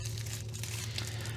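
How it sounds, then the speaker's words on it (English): Plastic wrap crinkles and tears in a short, close, quiet burst as it is pulled off a new golf driver. "let's unwrap this"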